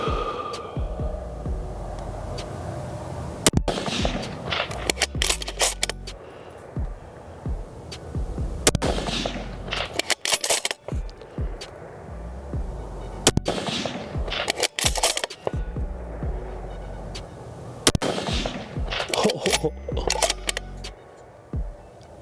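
Rifle fire through The Chad recoil device, a string of loud, sharp shots spaced a couple of seconds apart, each followed by a booming low rumble, over a steady outdoor background.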